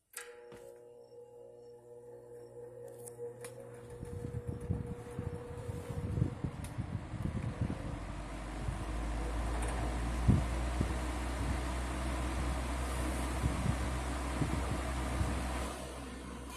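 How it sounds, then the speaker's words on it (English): A 1950s Wizard reversible box fan switched on at high speed, its motor and blades spinning up from quiet into a steady, loud whooshing rush of air that holds to the end. "Fan has a really cool startup sound to it too, on both positions"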